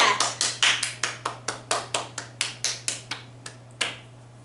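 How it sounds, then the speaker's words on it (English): A single person claps at a steady, moderate pace during a virtual watercolor snowflake art program, about fifteen crisp, close claps, each ringing briefly in a quiet room, with no talk. "Let's clap for that."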